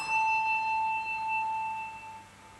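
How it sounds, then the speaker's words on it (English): A handbell rings with one clear sustained tone that slowly fades, heard alone and close, with no other sounds around it. "I can go sideways, this bell will ring, and that clapper will do nothing."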